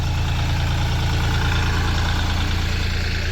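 A Bobcat tractor engine idles steadily up close, a constant low diesel rumble with a dense pulsing throb that holds evenly throughout.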